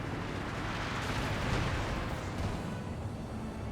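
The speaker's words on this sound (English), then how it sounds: "Jaeger infantry got wiped out by the cluster bombs" Cluster bombs going off in the strategy game Company of Heroes 2, a dense, sustained roar of overlapping explosions rumbling without a break.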